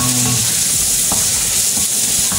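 Sautéing for ginataang manok, loud continuous frying sizzle in a pan with several distinct stirring scrapes and clacks of a utensil, close by.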